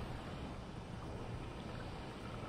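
Steady wind noise buffets the microphone on a windy day, a continuous broadband rush with no break and nothing else clearly standing out.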